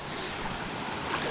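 A nearby stream runs high after 32 mm of rain, making a continuous broad rushing wash of water. It sounds fairly soft and even, with no voices.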